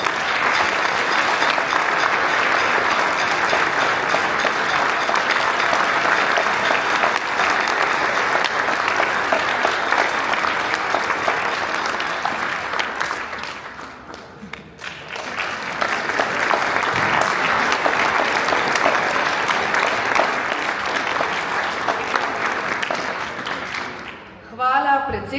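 Audience applause at a Christmas and New Year concert by the Kapela wind orchestra: long, steady, loud clapping from a large hall crowd, dipping briefly midway before surging again and fading at the end.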